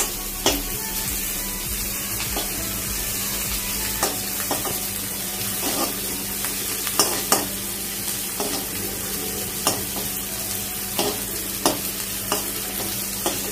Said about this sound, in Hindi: सुनहरा होने तक ही उसको भूनना है